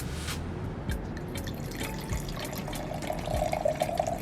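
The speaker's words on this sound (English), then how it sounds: "We're going to pour it in the glass." Red wine, a 2016 Migration Bien Nacido Pinot Noir, is poured into a glass: a steady liquid stream that rises in tone as the glass fills, over a low room hum.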